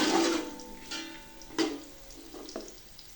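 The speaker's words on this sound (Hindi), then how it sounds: "दो मिनट तक इनको घी में फ्राई करते हैं।" Bay leaves frying in ghee for vegetable pulao, a soft crackling sizzle with a few louder spits and bursts over a quiet pan, close up with no talking.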